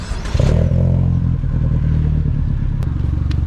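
A car engine cranks, catches and settles into a loud, steady idle with low-frequency rumble and occasional clattering, heard close up at an outdoor car meet.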